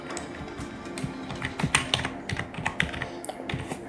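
Quick, uneven keystrokes clatter on a computer keyboard, close and fairly quiet, with brief pauses between bursts and no talk.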